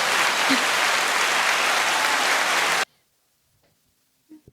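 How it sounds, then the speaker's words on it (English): An audience claps in a dense, loud burst of applause for nearly three seconds, then stops abruptly into near silence with a faint voice at the end. "give us some claps, man"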